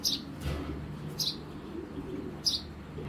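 Black checker pigeons of an old breed, a pair, make soft low cooing close by, with three brief high chirps spaced across a few seconds.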